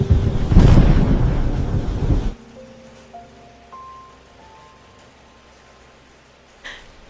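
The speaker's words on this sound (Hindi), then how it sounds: "बर्फ जैसी ठंडी हवाओं के साथ तेज आंधी और तूफान चलने लगा" A strong, icy storm wind roars loudly for about two seconds in a harsh rumbling gust, then cuts off abruptly to quiet, with a faint tonal chime rising in steps afterward.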